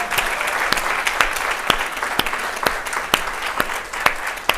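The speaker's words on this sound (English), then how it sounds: "let's give the Haitian Ladies Network a round of applause for gathering us again." An audience at a symposium claps steadily and fairly loudly for several seconds, with a few sharper individual claps standing out above the crowd's applause.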